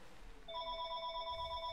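A telephone rings with a steady electronic trill, bright and continuous over a low background hum, fairly faint and with no talking.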